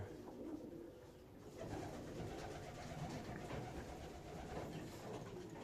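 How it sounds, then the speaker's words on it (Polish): Soft coos of racing pigeons murmur through steady low background noise, a dull continuous hum with faint bird calls mixed in. "to są gołębie tak poskładane"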